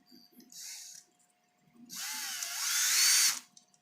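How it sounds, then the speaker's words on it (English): A Makita power drill used while building Dactyl Manuform keyboards, a short whir followed by a longer, rising whine that climbs in pitch and then cuts off, close and moderately loud with no talk. "Okay, I'm gonna use the Makita again."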